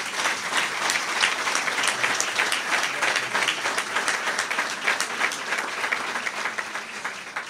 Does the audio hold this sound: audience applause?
yes